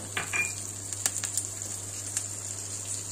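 Dry red chillies, green chillies, mustard seeds, cumin, carom seeds and turmeric sizzle steadily in a few spoons of hot oil, with a few sharp clinks of a spoon against the pan as the mixture is stirred.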